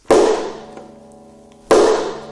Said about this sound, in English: It's a big snap of air, right?